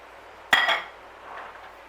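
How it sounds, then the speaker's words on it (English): A spoon or utensil clinks sharply once against a bowl while chopped onion and chives are being mixed, followed by a faint scraping stir, close and otherwise quiet. "we just want to mix that through really well"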